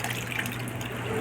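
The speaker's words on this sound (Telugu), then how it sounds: "కొంచెం వాటర్ యాడ్ చేసుకోవాలి" Water is poured into a pot of drumstick sambar already holding ground coconut and tamarind juice, giving a brief, steady splashing gush of about a second with nothing else heard.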